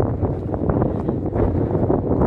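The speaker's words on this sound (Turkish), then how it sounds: "Rüzgar var ama size rüzgar denk geldi" Strong wind buffeting the microphone on a mountain village hillside, a constant low roaring rumble that gusts unevenly throughout.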